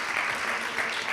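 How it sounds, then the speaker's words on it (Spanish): Brief burst of audience applause at a Spanish-language interview event, a dense crackle of many hands clapping at once, moderately loud and even for about a second. "Un aplauso, sí"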